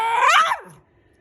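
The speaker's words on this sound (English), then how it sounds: "No barking." Dog giving a single short, sharp yappy bark up close, fading quickly into quiet.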